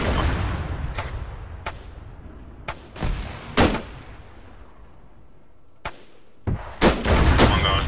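Gunfire in the video game Arma 3 crackles in sharp, close bursts: several single shots and short volleys separated by brief pauses, with a louder rapid cluster near the end.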